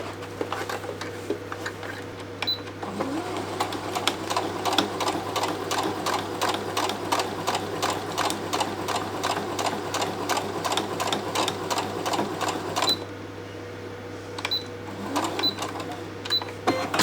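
A sewing machine stitches fabric scraps onto a hessian coaster in a rapid, even run of needle clicks. It stops briefly near the end before starting up again, close and clear with no talking.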